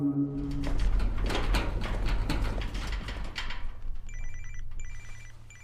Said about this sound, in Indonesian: Namun tiba-tiba seseorang menelpon handphone si Javi